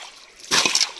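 A quick splash of water thrown out while a river pool is bailed to catch fish, one brief wet slosh close by after a moment of quiet outdoor hush.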